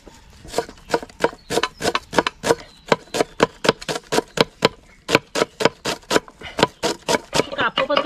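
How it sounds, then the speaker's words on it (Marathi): Onions finely diced with a knife on a board, a close, loud run of rapid, evenly spaced chopping strikes with one brief pause midway. "आता मी पटकन कांदे कापून घेतो।"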